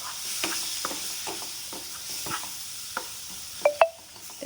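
Ground coconut paste for an eggplant curry being sautéed in a pan, with a faint steady sizzle under repeated soft stirring scrapes and two sharper clinks near the end; no one speaks.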